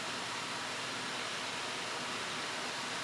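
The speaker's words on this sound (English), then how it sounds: "it's boiling." A pot of apples in syrup at a rolling boil for canning gives off a steady, even bubbling hiss that fills the clip without breaks and with no one talking.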